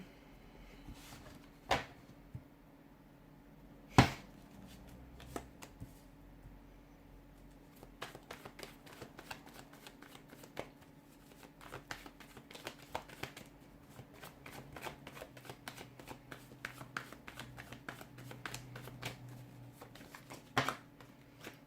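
A deck of tarot cards is shuffled over and over, producing quiet, rapid papery riffles and patter that run for about twenty seconds, broken by a couple of sharper knocks.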